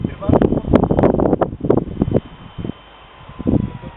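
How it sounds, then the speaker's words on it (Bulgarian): Gusty wind buffets the microphone in uneven bursts, loud and rumbling at first, then easing into a quieter lull before another gust. "Вятъра е на талази"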